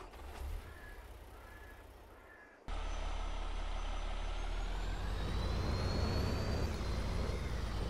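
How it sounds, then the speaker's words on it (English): A truck engine in Farming Simulator 22 rumbles steadily, quieter at first and then jumping to a louder, constant drone with a faint rising whine, no voices over it. "All right, we'll get this truck out of the way."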